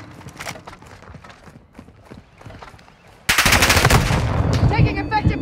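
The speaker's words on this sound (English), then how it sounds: "Taking effective fire!" Gunfire erupts in the Modern Warfare 2 video game during a prisoner rescue, starting with scattered shots under voices and then turning into a sudden, sustained, loud machine-gun barrage.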